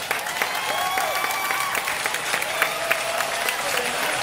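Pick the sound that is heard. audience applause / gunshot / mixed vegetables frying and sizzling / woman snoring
audience applause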